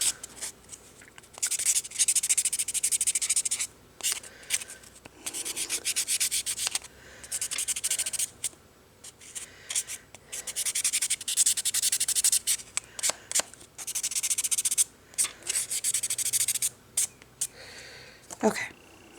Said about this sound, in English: I'm almost done with the buffing.